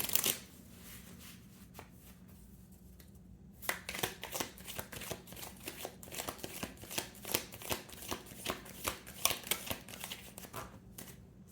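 Tarot cards are shuffled close up, starting with a few soft riffles and then a fast, steady run of crisp flicking snaps that continues to the end.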